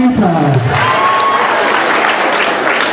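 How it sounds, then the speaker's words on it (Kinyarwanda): Loud crowd applause and some cheering for Mamita at a Rwandan comedy show, a dense continuous clapping wash from the start with a voice briefly audible early on. "Amashyi menshi cyane kuri Mamita."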